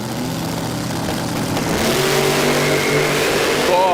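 Drag racing cars with supercharged and twin-turbo engines at Willowbank Raceway, a sustained engine roar that builds as they accelerate and carries with a rising whine toward the end.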